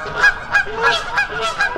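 Canada geese give a quick series of loud, nasal honks, about five calls in under two seconds, close by and without other sounds.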